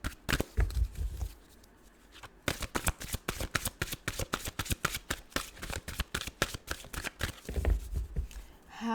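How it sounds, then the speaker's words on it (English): Tarot cards are riffled and shuffled again and again in quick, crisp bursts, close and fairly quiet, with brief pauses between runs. "I've been shuffling for a while"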